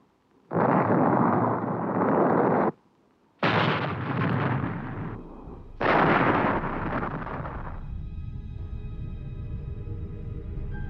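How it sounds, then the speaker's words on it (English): Huge napalm blasts from 700-pound tanks roar out in three rolling, thunderous bursts separated by short gaps, the last fading into a long, low rumble. "Here it is at normal speed. 700 pounds of napalm per tank."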